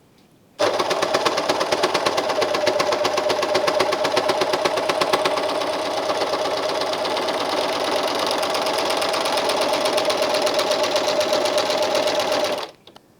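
An Elna Elina 792D overlocker running continuously at speed, a close, loud, rapid mechanical stitching hum that starts abruptly, holds steady for about twelve seconds and then stops.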